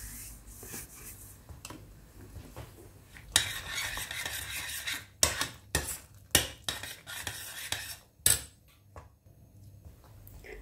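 A spoon stirs sugar into a pot of bolognese sauce, making a soft wet scraping and swishing. Several sharper clinks of the spoon hitting the pot come through midway. It sounds close and fairly quiet, with no voices.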